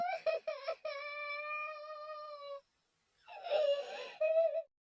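A child wails in long, drawn-out cries broken by short sobbing catches, faint and echoing, then a pause before a final shaky whimpering wail.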